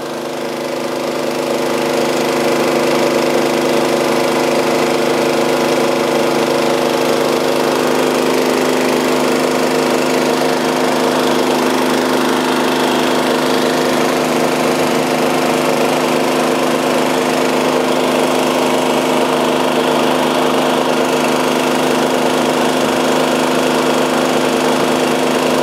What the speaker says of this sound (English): Once the cutters have reached 1/4 of the way around the pipe, you'll be able to view the actual cut and bevel.